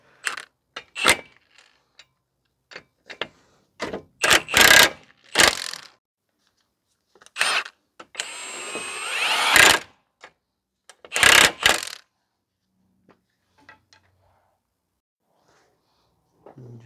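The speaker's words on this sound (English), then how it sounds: "I'm just going to tighten up the brake rotor" Brake rotor being tightened on a 2010 Subaru Outback 3.6 during front CV axle work: close, loud bursts of ratcheting and metallic clicking, with a longer whirring run in the middle and quiet pauses between.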